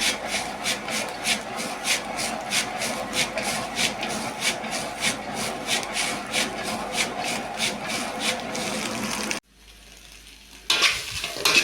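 Noodles stir-fried dry in a pan, a spatula scraping and tossing in a steady rhythm of sharp rasping strokes with a faint sizzle, close and loud, stopping briefly near the end before stirring resumes.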